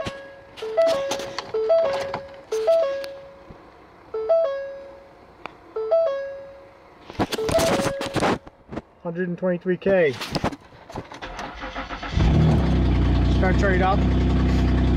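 A 2011 Ford Edge with its exhaust pipe broken off the manifold, starting and idling roughly with a loud, raw exhaust rumble near the end, after a series of electronic chimes while someone talks.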